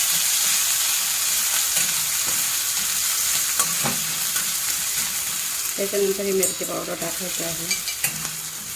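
Green chillies and ginger hit hot tempering oil with mustard seeds for mirchi vada filling, giving a steady close sizzle with scattered pops and a few scraping stirs near the end.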